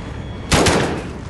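Single close, loud burst of gunfire in the video game Call of Duty Modern Warfare, with a quick follow-up crack, standing alone after a quiet stretch.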